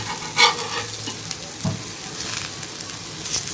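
Rava-coated halwa fish fries on a hot tawa with a soft, continuous sizzle and a couple of light knocks as the pieces are flipped.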